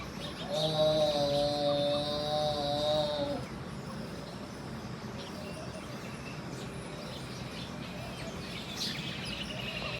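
Small sparrows coming to eat grain chirp in quick repeated calls near the start, fairly close, before fading into quieter outdoor ambience with a few faint later chirps.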